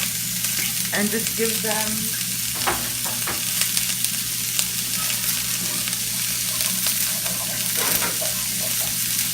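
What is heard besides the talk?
onion and bell pepper frying in a pan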